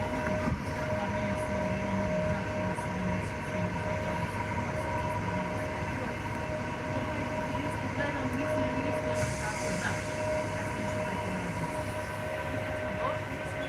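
A steady rumble and rattle of a train running from Belgrade toward Western Serbia, constant throughout with a faint hum and occasional squeaks, heard from inside a carriage.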